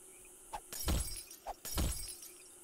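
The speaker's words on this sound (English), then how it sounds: "let's get to smashing windows" Window glass smashing in the 7 Days to Die survival game, two separate loud crashes about a second apart, each a sharp impact followed by a scattering shatter, with quiet background between.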